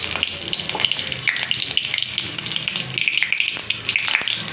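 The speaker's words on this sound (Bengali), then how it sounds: "তেল দিয়ে তেলটা গরম হওয়ার পর জিরে ফোড়ন দিয়ে দিলাম।" Cumin seeds crackle and sizzle in hot oil in a wok, a close, bright spitting hiss with frequent sharp pops over a steady fizz.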